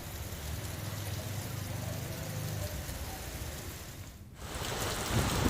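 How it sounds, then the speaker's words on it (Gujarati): Steady rain falling under cloudy skies in Mundra, Gujarat, a constant broadband hiss with low rumbling underneath, briefly dipping before resuming louder. "વાદળછાયા વાતાવરણ વચ્ચે મુન્દ્રામાં પણ વરસાદ છે."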